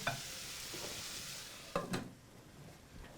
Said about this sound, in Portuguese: Adiciono um pouquinho de coentro. Refogo um pouco.